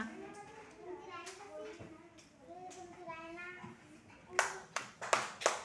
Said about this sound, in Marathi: Very good. Clap for नैनिक्षा.